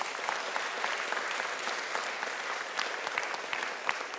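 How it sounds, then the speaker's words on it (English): An audience at the PromCon EU 2023 tech conference applauds its sponsors, a dense, even wash of many hands clapping at once that holds steady for the whole stretch at moderate distance. "so another round of applause for them"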